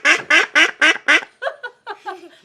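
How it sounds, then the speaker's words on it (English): Several loud, close duck quacks in a quick series, five strong calls followed by softer, shorter ones trailing off. "I've been quacked. That's one of my ducks."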